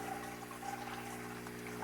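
Garden hose running a gradual flow of water into a deep water bed, a faint, steady trickle and gush beneath a constant low hum, with no talk.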